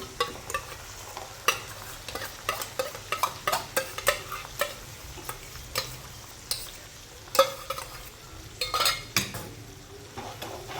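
Chilli chicken tossed with sauce in a pan over a high flame, with steady sizzling and frying beneath repeated sharp clinks and scrapes of a spoon stirring against the metal.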